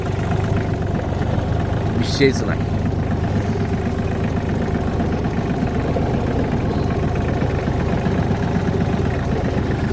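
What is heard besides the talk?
tractor engine running, levelling ground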